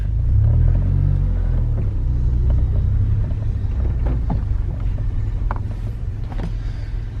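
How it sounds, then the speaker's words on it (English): A manual transmission car drives in first gear, a low steady engine rumble heard from inside the cabin, continuous and fairly loud with small knocks and rattles over it. "that's the basic of driving a stick shift car, manual transmission, 5-speed or 6-speed"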